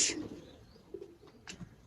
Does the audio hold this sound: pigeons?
yes